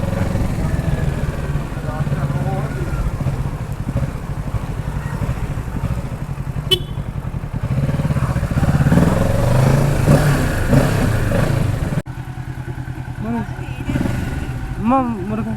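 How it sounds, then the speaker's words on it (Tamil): A superbike motorcycle engine in the Ammanputhur area of Coimbatore idles loud and close with a steady low rumble, rising in revs midway before settling; voices talk over it throughout. "அம்மன்புதூரோட எங்கள் ஏரியாவோட ஃபஸ்ட்டு சூப்பர் பைக்."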